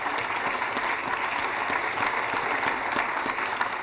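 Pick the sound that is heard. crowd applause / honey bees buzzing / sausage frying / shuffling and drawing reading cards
crowd applause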